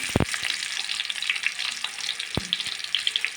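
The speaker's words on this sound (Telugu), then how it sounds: "నూనె వేడెక్కింది కాబట్టి ఉల్లిగడ్డ వేసుకుంటున్నా" Onions frying in two spoons of hot oil in a kadai give a steady, close bright sizzle with a couple of sharp clinks of a utensil against the pan.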